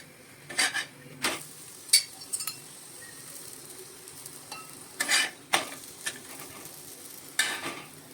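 Chapati roasting on a clay tava, with sparse soft clinks and brief scraping touches breaking a quiet background, a few short bursts spaced out over the stretch.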